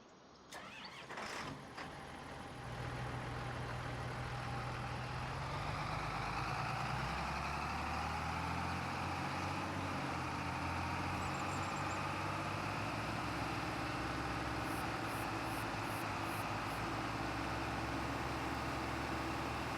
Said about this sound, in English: Go back and we'll grab our tractor.